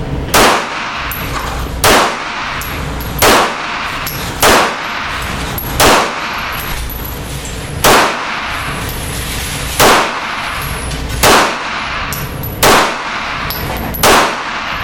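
FN FNX-9 pistol fired at a range, loud sharp shots spaced evenly about one to two seconds apart, each with a ringing metallic edge, repeating steadily with nothing in between.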